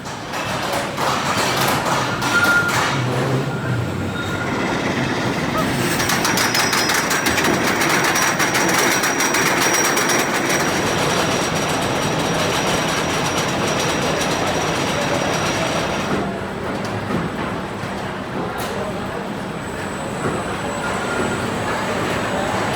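A ride in the front car of the Outlaw Run roller coaster: a loud, rushing rumble of wheels on track with clattering and wind noise, easing off near the end, with voices faintly under it.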